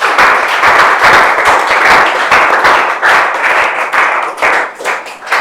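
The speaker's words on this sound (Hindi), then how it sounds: "तालियां बजती रहनी चाहिए।" An audience claps warmly at a felicitation for IIT students, a dense, sustained applause close and loud for several seconds with uneven surges.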